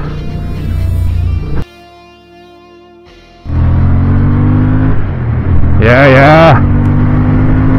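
A 2023 Honda CB750 Hornet in sport mode rumbles close by, drops away briefly, then roars back and climbs in pitch as it accelerates hard, with a short spoken remark over the engine.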